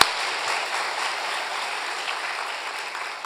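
A church congregation claps during a revival festival service, a steady wash of many hands at moderate level that fills the whole moment, with no voices over it.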